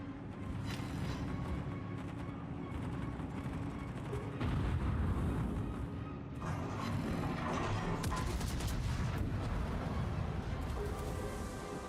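Warship guns firing in World of Warships, heard as rumbling booms and crashes layered over a continuous low engine and ocean drone, fairly muffled and distant.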